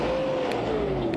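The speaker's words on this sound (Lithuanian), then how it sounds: "Užsikūrė automobilį ir jeigu neslėpsiu, aš tiek tikėjausi tokio agresyvesnio garso" BMW Z3 convertible with a 2.8-litre straight-six idling just after starting, a steady, fairly soft engine hum that holds even throughout.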